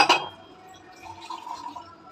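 Water from a freshly cracked coconut is poured into a glass at home: a sharp glassy clink opens, followed by a short, faint trickle of liquid up close.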